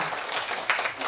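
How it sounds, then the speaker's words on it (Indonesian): Applause from an audience at SHE THE Forum, a women's forum event, a dense steady patter of many hands clapping at once, loud and continuous through the whole short burst with no speech over it. "tepuk tangan untuk orang-orang yang luar biasa"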